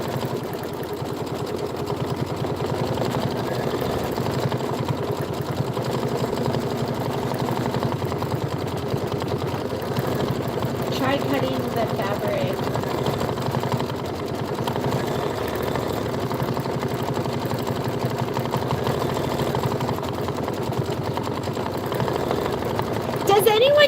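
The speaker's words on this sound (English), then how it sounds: "So this is the leaf and the stem. This is going to be 3 minutes of stitching." An embroidery machine stitches the leaf and stem of a Kimberbell bunny-trail mini quilt, a steady rapid mechanical whirr with fast needle chatter running throughout at close range.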